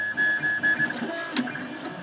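An XYZprinting Da Vinci 1.0A 3D printer fitted with an all-metal hot end runs a print job, its stepper motors giving a steady whine with short pulsing bursts and faint mechanical clicks.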